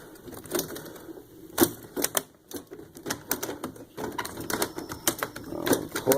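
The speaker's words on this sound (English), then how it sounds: "take the bolts out of that." Bolts come out of a traffic light controller under a nut driver, with close, sharp metallic clicks and rattles in irregular bursts and scattered handling knocks.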